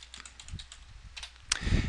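Command-line typing on a computer keyboard, a quick close run of light key clicks with a louder cluster of strokes near the end.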